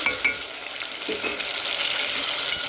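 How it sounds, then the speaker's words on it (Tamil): Ripe chopped tomatoes sauté in a pan as they are mixed in, giving a bright, steady sizzle with a couple of utensil clinks near the start and no speech. "இப்போ சேர்த்துட்டு நல்லா கலந்து விட்டு தக்காளி பழம் நல்லா வதங்கிக்கணும்"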